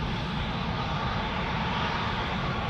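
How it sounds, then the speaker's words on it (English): A KLM Embraer E2 195 jet airliner taxis at Amsterdam Schiphol on its way to Copenhagen, its engines producing a steady, dense broadband roar, close and unbroken for the short stretch. "it's an E2 Embraer 195"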